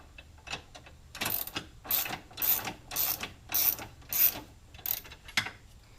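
Close ratchet clicks snug bolts on a GT500 transmission, in about eight short rapid bursts with brief pauses between strokes and a few lighter metallic clicks.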